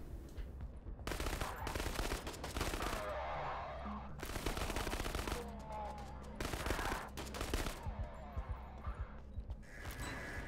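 Shotgun fire in the horror game Krankenheit, several loud booming blasts in bursts separated by short gaps, with dense game audio and ambience between them.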